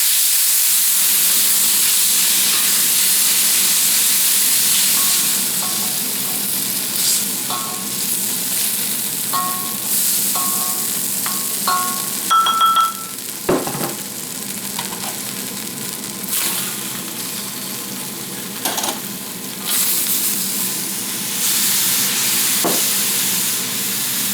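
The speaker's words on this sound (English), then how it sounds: "olive oil in there, and then we're going to stir fry this." Chicken stir-fries in a little olive oil in a pan for a Chinese-style dish, giving a loud, continuous sizzle and hiss. Occasional clinks and scrapes from a utensil stirring the food are heard, with no talking.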